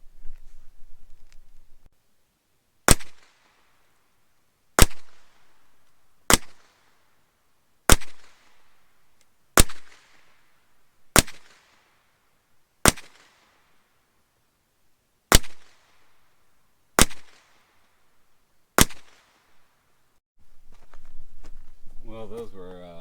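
Ten evenly spaced sharp gunshots ring out at a practice range, each a crisp crack with a short tail, loud and fairly close; light handling sounds precede them and a voice speaks briefly at the end.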